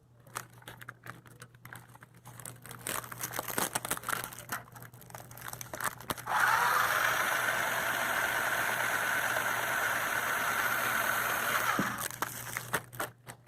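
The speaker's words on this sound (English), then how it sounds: "see if you can figure out the pitch of your remote control car" Remote control car whirring nearby, a faint motor hum with scattered clicks at first, then a louder, steady high-pitched electric whine that holds for several seconds before dropping away, over a constant low electrical hum.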